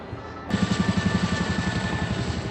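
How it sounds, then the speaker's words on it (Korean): A large CH-47 Chinook twin-rotor transport helicopter sounds loudly, its deep rotor thumping beating in a fast, steady pulse under a constant high turbine whine that rises abruptly and holds. "현재도 많이 운영되고 있는 대형 쌍발 수송 헬기인데요"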